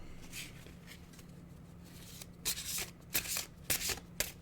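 Oracle cards being shuffled by hand, a few soft riffling bursts and slaps after a quiet pause, close and fairly faint over low room hum.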